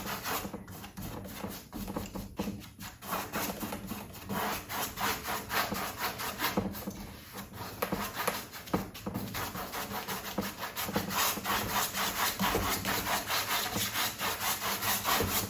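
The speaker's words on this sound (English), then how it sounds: "a nice light crisscross strokes just to get the whole canvas covered" A paintbrush makes light crisscross strokes across a canvas while blocking in an autumn scene with yellow ochre, giving a steady scratchy rubbing texture of back-and-forth swishes that stays close and fairly even throughout.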